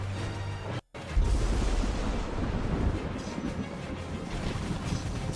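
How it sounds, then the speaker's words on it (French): Lightning strike in a Final Fantasy game: a sharp crack followed by a loud, rolling rumble of thunder that lingers and slowly fades, heard alone. "L'éclair."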